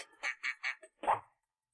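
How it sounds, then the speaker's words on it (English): A duck quacks four times in a quick even series, then lets out one longer, lower quack, close and clear with nothing else around it. "It's a duck."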